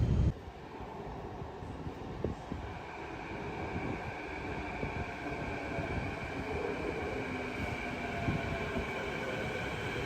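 Vancouver SkyTrain at a station, a steady rumbling rail roar with a sustained high whine and faint rattles throughout, fairly loud and close, with no talking.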